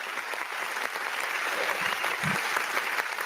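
An audience claps in a steady burst of applause, dense and fairly loud, holding evenly for a few seconds.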